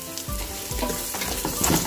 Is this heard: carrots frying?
yes